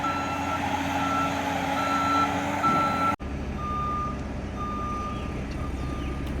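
A truck delivering loads of dirt for final grading at a custom home build sounds a steady series of evenly spaced reversing beeps over its running engine, fairly close and continuous.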